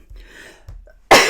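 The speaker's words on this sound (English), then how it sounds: "Oh, I'm going to sneeze." A single loud, sharp sneeze bursts out at the end after a couple of quiet breaths.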